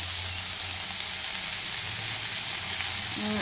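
Onion in large pieces and two green chillies fry in a hot pan, making a loud, steady sizzle close by, with faint stirring and no voices.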